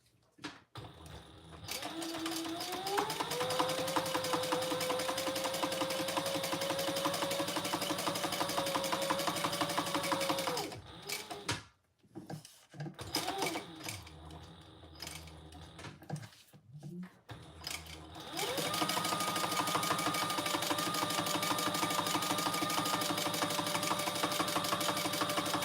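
Sewing machine running long bursts of top stitching on a Traveler Pouch, its motor whirring steadily, pausing in the middle for a few short starts, then resuming; a voice speaks briefly nearby.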